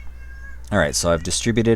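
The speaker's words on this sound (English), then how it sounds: "I apologize for my cat meowing." A house cat meows repeatedly in the background while someone speaks over it, the meows rising and falling in pitch beneath his voice.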